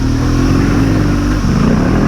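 BMW 1200 GS Adventure motorcycle engine on an enduro trail, a loud, steady low rumble held close and continuous throughout with a slight dip and rise midway.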